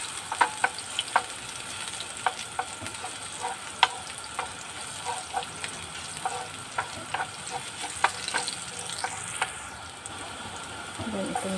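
Garlic frying in a pan gives a soft, continuous sizzle broken by repeated clicks and scrapes of a utensil stirring, moderately close, with quiet talk in the background.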